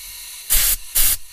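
An air blow gun blasts into the carburetor jets and diffusers of a Big DR, giving two sharp, loud hissing bursts of about a quarter second each, close up, with a short pause between them.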